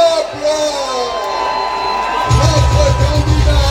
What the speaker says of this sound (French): Un tonnerre d'applaudissements à celui qui représente l'espoir de tout